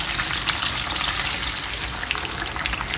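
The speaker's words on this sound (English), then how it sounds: "I'm going to just to fry this for another 2 minutes" Fish sizzles steadily in hot oil for crispy chilli sambal fish, a loud, dense, hissing crackle that carries on unbroken and close, with no voices.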